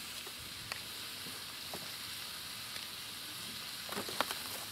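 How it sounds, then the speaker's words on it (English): Potatoes and steak fry in a pan, a steady, soft sizzle running throughout at low level with a few faint clicks and pops near the end, no one talking. "they will just steam like that in the pan"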